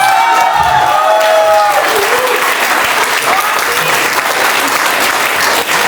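Loud, dense applause from a large audience at a reception ceremony fills the whole stretch, steady clapping with some cheering mixed in and a brief voice early on.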